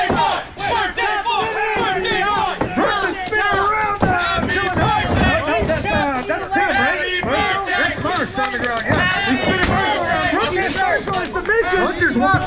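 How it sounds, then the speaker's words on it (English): A crowd at a backyard wrestling show cheers and yells loudly and steadily, a dense roar of voices with shouting throughout. "There's the crowd is cheering for the birthday boy."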